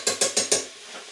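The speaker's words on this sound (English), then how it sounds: "This garlic press is much easier to use than the last one we used to have." A garlic press crushing garlic in a home kitchen while a sweet potato and coconut curry is made, giving four quick ratcheting crunches in an even rhythm, close up, then a faint tail.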